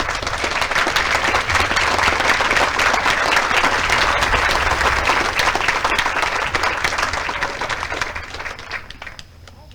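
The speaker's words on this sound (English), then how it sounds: "please join me in giving our awardees a round of applause" Audience applause at a military regiment's Advanced Camp graduation ceremony for awardees, steady dense clapping from a large crowd that holds loud for about eight seconds, then thins and fades out.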